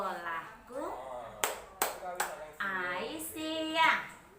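Several crisp claps punctuate a sing-song chant at a school orientation, landing in a steady rhythm between stretches of a voice calling out the words close by.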